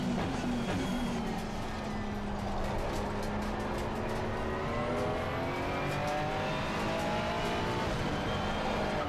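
McLaren Artura race car lapping Kyalami in a racing video game, engine droning steadily with rising and falling revs through gear changes, continuous and fairly close throughout.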